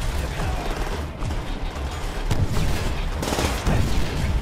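Rapid bursts of Call of Duty: World at War gunfire crackle continuously, loud and close, with heavier volleys toward the end.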